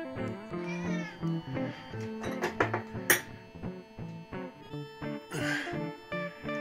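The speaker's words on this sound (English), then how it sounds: "Here are my two helper kitties." Two house cats meow repeatedly in a home, a string of close, clear cries with varied pitch and length, some drawn out and whiny, with no talking.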